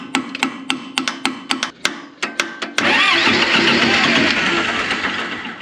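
A tractor engine with a freshly replaced battery cranks in a dozen short, uneven bursts, then catches and runs at a steady, loud roar that slowly eases off.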